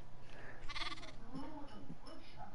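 Sheep in Minecraft bleat close by, a few short wavering calls over quiet game ambience, with a person talking lightly in the background.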